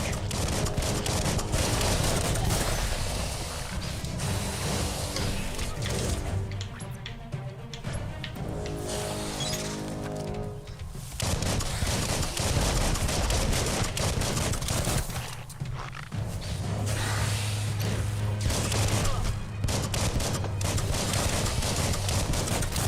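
Gunfire in the video game Biomutant, dense continuous volleys of shots over a busy game soundscape with music, with short lulls before the firing picks up again.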